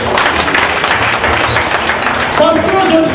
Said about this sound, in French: Il faut m'applaudir.